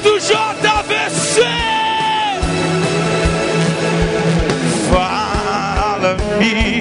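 A youth crowd at a Brazilian church worship event yells and whoops loudly and continuously, a dense wall of cheering voices over music, near and sustained throughout.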